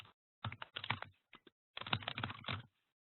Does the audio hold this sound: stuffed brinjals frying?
no